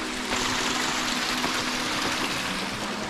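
Natural waterfall on the Brahmagiri mountain trek near Trimbakeshwar, Nashik, a continuous broad rushing wash of flowing water, steady and fairly close, with no talking over it.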